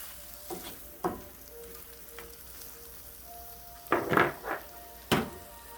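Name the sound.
food frying in butter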